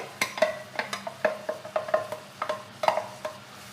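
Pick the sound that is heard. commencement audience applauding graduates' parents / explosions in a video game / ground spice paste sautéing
ground spice paste sautéing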